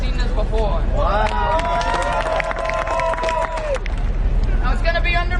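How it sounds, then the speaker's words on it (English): A crowd at an outdoor street show in Key West claps along amid lively babble and shouting voices, loud and close, with a voice calling out over the noise. "And clap like you've never seen this before."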